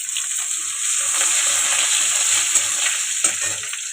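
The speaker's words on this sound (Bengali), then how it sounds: "এবার তেলে রসুন আর কাঁচা লঙ্কাটা দিয়ে দিলাম।" Garlic and green chili frying in hot oil in a kadai, a steady bright sizzle with faint spatters and small clinks of stirring, close and continuous.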